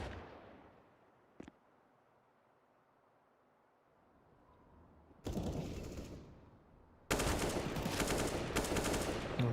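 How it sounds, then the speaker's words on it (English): Gunfire in a competitive esports video game match: a single sharp shot rings out early, a quiet stretch follows, then loud sustained rapid-fire bursts crowd the end. "Shots on the outside"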